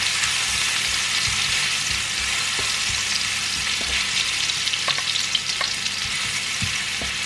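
Chopped ginger sautéing in a hot pan as the base for Thai green curry, a continuous bright sizzle and crackle with occasional soft stirring scrapes and clicks, close and steady throughout.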